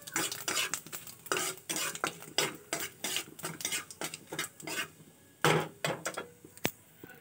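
Bay leaves, dried chili and whole cumin temper in hot oil with a light sizzle under repeated scraping strokes of a spoon against the pan, coming in close, uneven bursts with short pauses.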